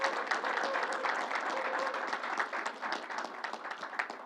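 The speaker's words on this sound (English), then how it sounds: "Let's give him a round of applause for all his good help" A crowd at a New York coronavirus press briefing applauds a National Action Network pastor, with steady, dense clapping from many hands throughout, moderately loud, easing slightly near the end.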